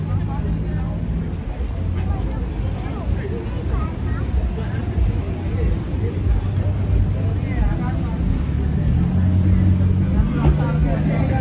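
Steady traffic rumble on a busy downtown street in Paterson, New Jersey, with cars and buses passing continuously close by at a constant, fairly loud level, with voices mixed in.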